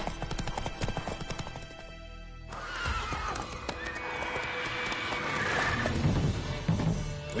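Horse hooves clip-clop steadily in The Witcher 3 while the horse lets out a loud whinny, with galloping continuing under game music and ambience.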